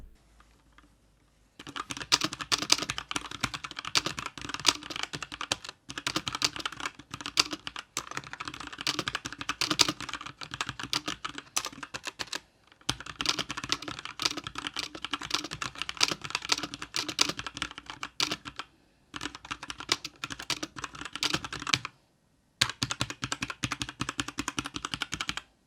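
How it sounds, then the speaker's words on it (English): Steady, rapid typing on a METOO Z56 89-key mechanical RGB keyboard with a number pad, a dense run of crisp key clacks broken by a few brief pauses, close up with no talking. "as you'll hear in the sound test in a second"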